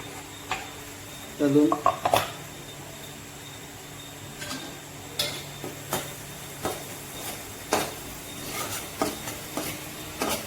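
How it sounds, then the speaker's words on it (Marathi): Garlic being stirred in a cooking pan for a chicken dish, with soft sizzle under scattered scrapes and clinks of a spoon against the pan, while someone talks throughout. "लसूण पण बरोबर परतला ना"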